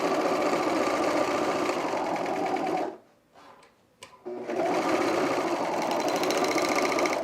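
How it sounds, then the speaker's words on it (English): A sewing machine stitches through a pair of pants in a steady, loud mechanical whir, pausing for about a second before starting again and running on continuously. "and keep sewing."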